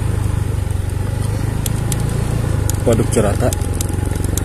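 Motorbike ridden over a rough, bumpy dirt track on the dry bed of Cirata reservoir, a steady low engine drone with rattling from the road, under a man's continuous speech.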